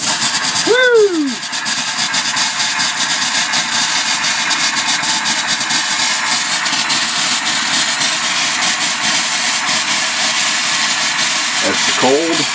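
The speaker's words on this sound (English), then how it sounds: "we're going to use that to blow out the hot and cold lines" Compressed air blows out the hot and cold water lines of an RV being winterized, making a loud, steady hiss that runs throughout with a brief squeak near the start and end.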